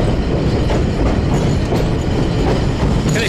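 A train rumbles across a railway bridge in northwestern Pakistan, with loud continuous clattering wheels and rushing noise heard up close from on board.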